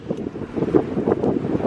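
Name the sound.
strong wind blowing into the microphone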